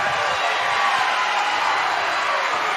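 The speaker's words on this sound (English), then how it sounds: "Crowd wants a technical on the dunk." A packed crowd at a high school boys basketball game reacts after a missed dunk, a loud, steady roar of voices and shouting filling the gym without letup.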